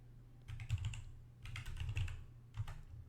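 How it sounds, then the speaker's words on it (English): A computer keyboard is typed on in three quick bursts of close, crisp keystrokes separated by short pauses, entering a command on a CentOS 7.6 machine, with no voice. "we're going to type in mysql_secure_installation"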